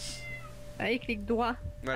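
A pet cat in the Minecraft video game gives a few short, close meows in quick succession after a brief chime, while someone talks over the game sounds.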